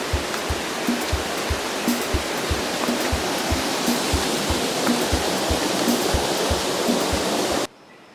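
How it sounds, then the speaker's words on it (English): Tall waterfall on the seven waterfalls tour near Juayua, El Salvador, roaring as a steady, loud broadband wash of falling water close by, with no talk, cutting off abruptly near the end. "You're looking at the tallest and signature waterfall for this tour."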